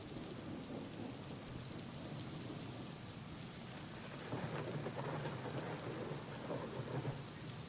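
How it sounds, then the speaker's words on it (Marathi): Heavy monsoon rain pours steadily on surfaces in western Palghar, with dull thunder rumbling underneath and the downpour swelling louder in the second half. "पालघरच्या पश्चिम भागामध्ये जोरदार पाऊस बरसला।"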